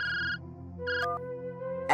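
A mobile phone rings in a Nut Boltu cartoon, a short electronic ringtone melody repeating in bright tonal bursts with no talk over it.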